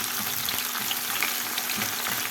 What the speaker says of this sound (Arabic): تقدري تتحكمي في ايه في البصل كده وتحمريه كويس ويبقى ناشف معاكي